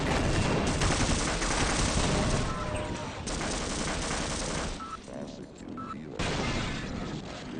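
Automated turrets in Half-Life firing in loud sustained bursts of rapid gunfire, dense and close, broken by brief pauses with faint electronic beeps before the shooting resumes.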